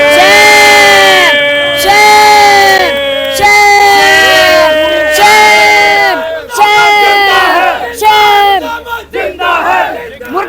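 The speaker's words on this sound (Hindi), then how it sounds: "मुर्दाबाद के नारे लगाओ" A crowd at the Islamabad High Court chanting protest slogans in loud, rhythmic call-and-response bursts, many voices shouting together in repeated cadences that grow more ragged toward the end.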